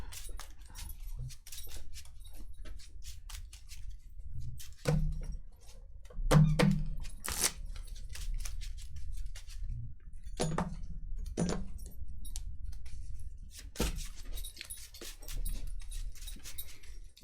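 A dog moves around indoors and knocks into things, giving scattered thumps and knocks, a few of them sharp and louder, with quieter shuffling between them and no talk.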